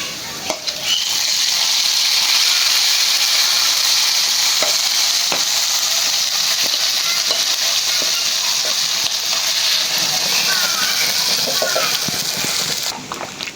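Garlic, onion and other vegetable khichuri ingredients sizzle and fry hard in a pan, making a loud, steady hiss close by with a few faint stirring clinks.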